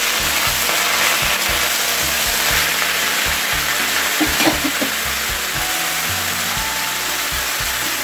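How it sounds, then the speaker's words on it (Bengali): Fresh spinach goes into hot oil with a spice tempering, and a steady, loud sizzle continues throughout, with faint stirring scrapes in the middle and no talk. "এখন আমি দিয়ে দেবো এখানে পালং শাক"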